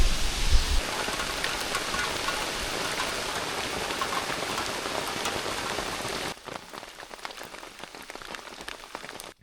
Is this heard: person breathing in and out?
no